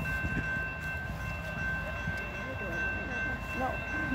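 A two-locomotive CSX intermodal freight train rolls steadily past at close range in Folkston, Georgia, making a continuous rumble with a high steady tone running through it, while people talk off and on nearby.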